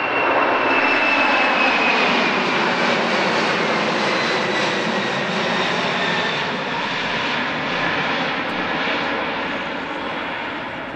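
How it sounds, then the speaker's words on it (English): A propeller plane drones overhead near an airport, its steady engine roar filling the whole stretch before easing off slightly toward the end. "and here comes another plane."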